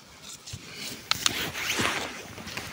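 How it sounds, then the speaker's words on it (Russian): A squeaky plastic bag rustles and crinkles up close as mushrooms are gathered into it in a forest, with a couple of sharp crisp snaps among the steady crumpling. "Пакет он скрипкий, может порваться, конечно."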